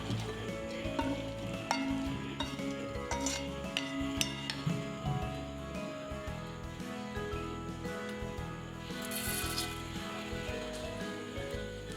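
Shallots and curry leaves temper in hot oil for tomato chutney, a faint steady sizzle mixed with light clinks and stirring of utensils against the pan.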